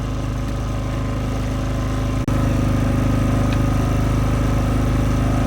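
A Predator 5000 inverter generator idles steadily, a loud, even engine drone with one brief dip partway through before it resumes unchanged.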